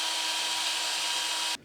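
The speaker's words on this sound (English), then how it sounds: "And now we're going to drill a hole there." A power drill bores a hole into a wall for mounting a floating shelf, a loud steady high-pitched whir held close for about a second and a half before stopping abruptly, with no talking.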